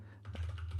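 A few quick keystrokes on a computer keyboard as a short command is typed, close and quiet over a low steady hum.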